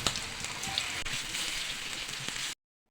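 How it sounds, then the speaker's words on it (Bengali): Pieces of chicken fry in a pan of hot oil, giving a dense, steady sizzle and crackle that runs unbroken for a couple of seconds before cutting off abruptly. "সব চিকেনগুলো এভাবে দিয়েই আমি চিকেনগুলোকে ভেজে নেব"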